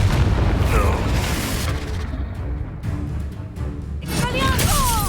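Confringo blasting curse explosions from the Hogwarts Legacy video game, deep booming bursts rolling through dense battle noise, with a voice shouting spell names over the chaos.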